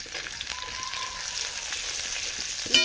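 Chopped onion added to hot oil with garlic sizzles steadily, a close, continuous hiss with a brief clatter at the end.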